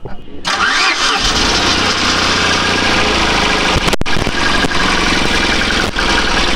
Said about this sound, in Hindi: कार स्टार्ट तो आराम से हो जाती है